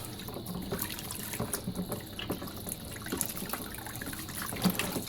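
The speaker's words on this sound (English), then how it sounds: "as you can see all the water coming out" Tap water runs and splashes steadily while a goldfish tank filter is rinsed in a sink, a continuous close gush with small irregular spatters and clinks.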